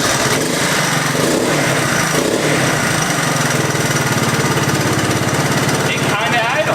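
An old abandoned three-wheeler ATV engine idles roughly with a loud, choppy, uneven chug that runs continuously, while people talk over it.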